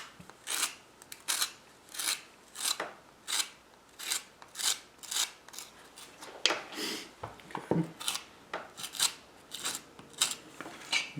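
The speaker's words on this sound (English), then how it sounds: "We're just kind of scraping away all the high spots." A tool scrapes high spots off the surface of a clay pinch pot in a steady series of short, rasping strokes, about one per second, close and fairly quiet, with no talking.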